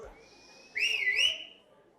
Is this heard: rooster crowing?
no